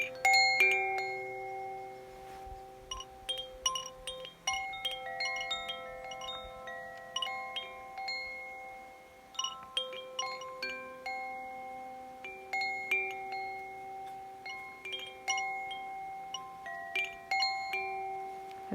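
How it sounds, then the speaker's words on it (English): A Koshi chime with small metal rods struck by an internal clapper rings out in scattered, overlapping bright tones, clusters of notes sounding and decaying over nearly twenty seconds. "I think it's called a Koshi Bell"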